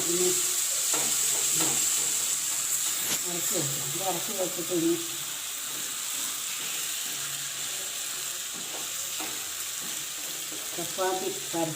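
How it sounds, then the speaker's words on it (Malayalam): Masala of green chili, garlic, chili powder, turmeric and salt fries in a pan, giving a continuous sizzle with stirring scrapes while a person talks over it. "മുളക് പൊടി മഞ്ഞൾപ്പൊടി എല്ലാതും ഇട്ട് ഉപ്പും ഇട്ട് ഇത് വറുത്തി"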